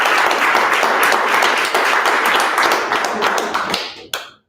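Dense applause from an audience at a tech community meetup in Silicon Valley, steady clapping that fades away and stops near the end.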